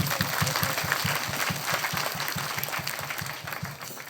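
A church congregation at a parish Christ the King feast gathering claps together in a steady, rhythmic beat, many hands striking in unison at a moderate tempo that softens slightly toward the end.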